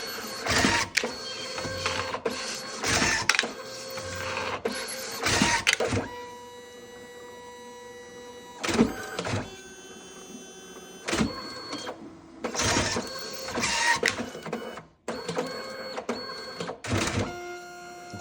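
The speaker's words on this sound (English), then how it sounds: "So now it's printing our print." A printer runs a page, with bursts of loud mechanical whirring and clunking feed motions separated by quieter tonal motor hum, close and alone.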